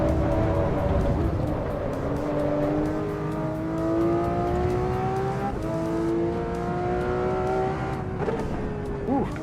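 Volvo S60R engine in a driving simulator, a steady close drone whose pitch climbs through several gears, with brief drops at each shift and occasional light clicks over it.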